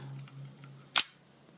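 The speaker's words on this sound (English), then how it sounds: "but when you actually take the picture," A single sharp shutter click from an Eastern European film camera such as a Zenit or Praktica, a crisp mechanical snap near the mic standing alone after a quiet low hum.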